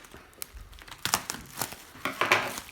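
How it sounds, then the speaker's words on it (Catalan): Crinkly plastic packaging being pulled off Panini comics, a close series of irregular crackling and crumpling bursts that grow denser toward the end. "Traiem primer tot l'embalatge."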